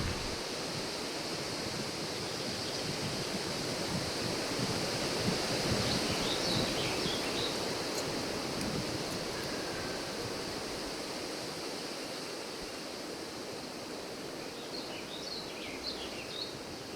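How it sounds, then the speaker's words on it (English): The Hobock River flows past a campsite, giving a steady broadband rush that stays even throughout, while faint bird chirps sit high above it. "Right by the Hobock River."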